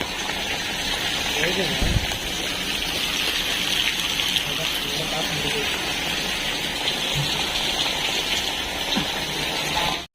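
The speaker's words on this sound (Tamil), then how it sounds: "மழையில மாட்டிக்கிட்டோம்." Steady heavy rain pours down in a continuous hiss, loud and close, with an occasional thump, while someone speaks underneath.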